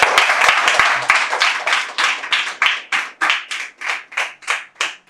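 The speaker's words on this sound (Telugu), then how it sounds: "వారికి ఒక్కసారి పిల్లలు చప్పట్లు కొట్టడమ్మా." Children clap at a birthday celebration held in an orphanage, a loud burst of quick hand claps that settles into a slower, evenly spaced rhythm, with no talking.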